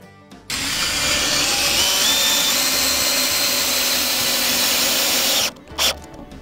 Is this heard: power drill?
yes